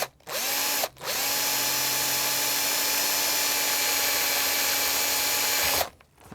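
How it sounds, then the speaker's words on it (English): A power drill whines steadily at high speed for several seconds, briefly stopping and restarting, close and loud with no talking, as it drills pilot holes in a plastic lens. "start by drilling a hole where our LED light's going to go here"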